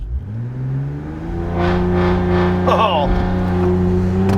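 A Ram RHO truck with an AWE exhaust launches in launch mode, its engine droning and rising steadily as it accelerates, loud and close, with a brief spoken exclamation over it.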